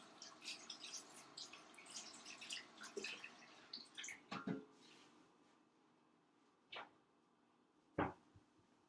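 Hands are washed under a running kitchen tap after handling egg, with a few seconds of splashing water followed by scattered drips and a couple of sharp clatters.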